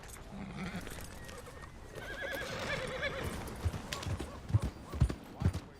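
In the Red Dead Redemption 2 video game, a horse whinnies and then its hooves clip-clop closer, growing into louder, uneven steps near the end.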